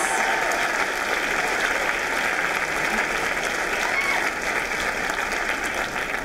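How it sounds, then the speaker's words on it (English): Sustained applause from a school audience for student writers, a dense, even wash of clapping that holds at a steady level throughout. "One more round of applause for our student writers"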